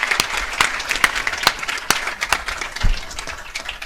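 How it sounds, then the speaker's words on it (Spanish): Applause at a book presentation, with close, distinct individual claps standing out over a thinner crowd patter. "Un aplauso muy fuerte para Pablo Victoria Vilches."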